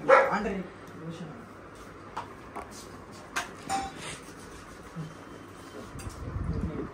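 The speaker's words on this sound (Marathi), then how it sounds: "हे आमची कुत्री आहे" A dog gives a few scattered barks and yips between quieter stretches, while people talk nearby.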